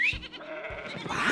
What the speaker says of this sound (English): Do you hear that? Whoa! There are sheep everywhere!